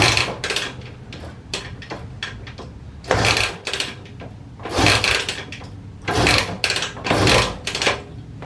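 Repeated kick-starting of a 1969 Honda CL160 motorcycle with no choke: a series of about five rough mechanical strokes and scrapes in irregular bursts, close and fairly loud, with no engine catching.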